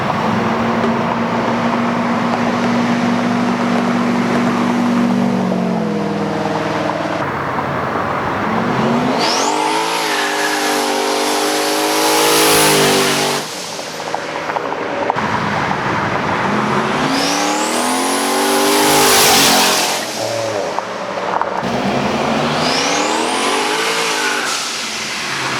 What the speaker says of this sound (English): that's a boost activated cutout